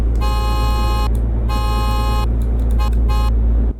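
2020 Falcon Heritage car horn in the Roblox game Greenville: two long, loud buzzy blasts followed by several quick short toots over a low steady engine hum.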